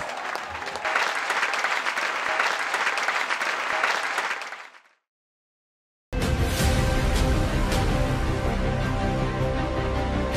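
Congregation applauding at an evangelical Sunday church service, a dense sustained wash of clapping that stops into a brief silence, then resumes loud and full.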